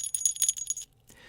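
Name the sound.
jingle bells ringing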